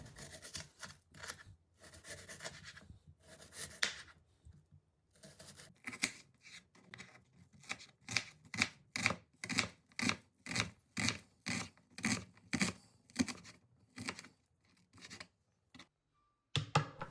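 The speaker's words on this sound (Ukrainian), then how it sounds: "беремо дві цибулини і нарізаємо теж кубиком" Two onions being chopped into cubes with a knife on a board while cooking lecho with rice: a long, steady run of crisp, evenly spaced cutting strokes, close and clear, with no one talking.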